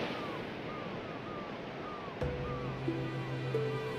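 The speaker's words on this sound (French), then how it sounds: "J'aime l'odeur de la mer, le bruit des vagues, le cri des mouettes." Sea waves wash steadily in a broad, even roar, later joined by a low steady hum and a few faint tonal cries, with no talk.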